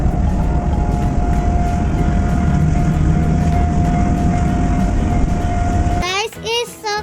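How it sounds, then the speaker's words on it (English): A toy electric train runs with a loud, steady mechanical whir and a constant motor hum. The hum cuts off near the end and a short burst of chirpy electronic toy sounds follows. "wow, this is called electric train."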